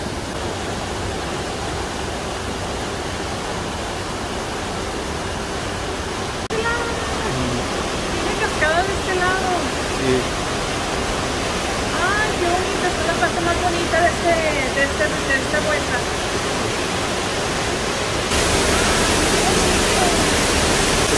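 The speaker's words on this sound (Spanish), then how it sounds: "Estamos abajo de la cascada." Waterfall pouring right overhead, heard from below it near a tunnel on an outing in Egypt, a steady broad roar that swells louder midway and again at the end, with people talking faintly under the rush.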